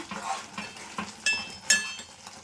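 A spoon stirs jackfruit seed curry in a pan, with soft scrapes and a faint sizzle and several sharper clinks of metal against the pan, close up and fairly quiet.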